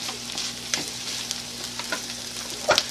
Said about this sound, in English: Stirring in the rice and the vegetables and the ham and the bacon and the deliciousness.